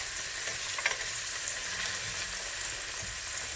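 Halloumi slices frying in a pan after being turned give an even, continuous hiss of sizzling oil, moderately close, with a couple of faint clicks from the utensil and no voices.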